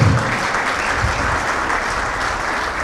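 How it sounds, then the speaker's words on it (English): A crowd claps for a trophy at an indoor cricket match between the UAE and Sri Lanka, with even applause that holds steady throughout. "Guys, a round of applause for the trophy."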